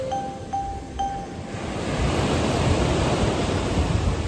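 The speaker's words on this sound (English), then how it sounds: "The gentle blue waves of the Tyrian Sea lap onto the seashore." Gentle blue waves of the Tyrrhenian Sea lap onto the Corsican seashore, a steady broadband wash that swells louder after the first couple of seconds, with faint tonal sounds early on.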